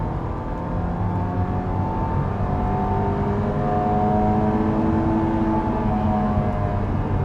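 A 2000 Honda S2000 roadster accelerates steadily from inside the low-slung cabin, its engine note rising continuously and loud throughout, with no talking over it.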